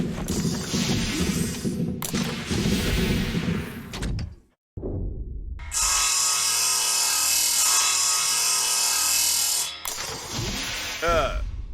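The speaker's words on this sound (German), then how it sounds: "Dann nehmen wir den Sägebohrer." A saw-drill cuts through a door in the video game Breathedge, loud grinding and whirring bursts with a short silent gap, then a long sustained mechanical cutting drone before more clattering.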